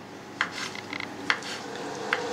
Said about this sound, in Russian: Нарежем весь шпик.